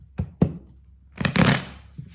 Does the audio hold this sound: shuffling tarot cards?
yes